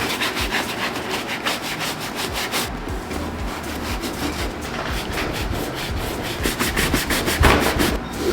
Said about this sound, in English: Now we're going to massage all that in with our horsehair bristle brush.